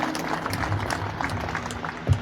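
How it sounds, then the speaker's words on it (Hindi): An audience at a Shrimad Bhagavat Katha gathering in Amravati, Maharashtra claps in a short, moderately faint burst of applause with a slight rise near the end. "उन सब के लिए जोरदार तालियां बजाइए"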